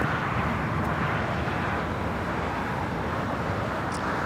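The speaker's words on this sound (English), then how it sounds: "JetBlue Airways Flight 188 on an A321. We have the San Francisco Giants livery taxiing over to the south side." A JetBlue Airways A321 in San Francisco Giants livery taxiing at Los Angeles International Airport, a steady, loud broadband engine roar that holds constant throughout with no talking.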